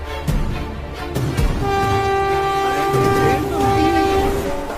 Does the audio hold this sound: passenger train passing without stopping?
yes